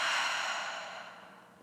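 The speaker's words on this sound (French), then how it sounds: "Et par la bouche, vous faites le vide, vous l'expirez" A slow, steady breath let out through the mouth during a guided yoga relaxation, a soft airy exhale that is loudest at the start and gradually fades over under two seconds, with no talking.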